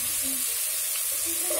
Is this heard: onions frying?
yes